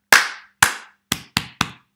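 Five sharp hand claps in a quick rhythm, two spaced slowly then three faster, each crisp and close with a brief decay, ringing out alone in a primary school music chant.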